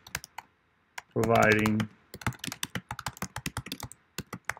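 Quick, uneven keystrokes clatter on a computer keyboard while entering a business services description, close and crisp, with a brief spoken word interrupting in the middle before the typing resumes.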